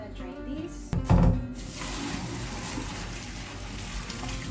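Cooked noodles being drained in a home kitchen while cooking Thai drunken noodles: a sudden knock, then a brief loud gush of water pouring out, fading into a steady soft hiss of running water.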